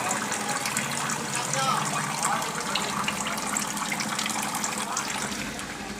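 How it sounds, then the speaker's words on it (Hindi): Steady rushing and splashing of water moved by a small DC electric pump inside an air cooler, continuous and fairly close, with a low motor hum beneath. "पंप हमारा ठीक ठाक पानी ठा रहा है"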